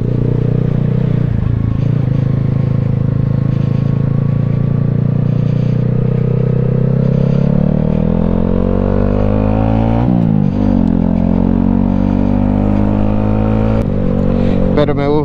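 A motorcycle engine drones steadily while riding, its pitch climbing and shifting as it speeds up, loud and close throughout.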